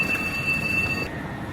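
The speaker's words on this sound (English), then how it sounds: "Look at the high-speed train we came in on." A high-speed train stands at a station on a Silk Road route in western China, giving a steady broadband rumble with a high whine that cuts out near the end, alone with no talk.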